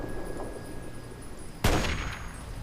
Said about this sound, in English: Oh, he's shooting at me now.